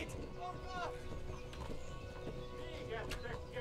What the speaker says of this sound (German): Pferdchen, lauf, galopp.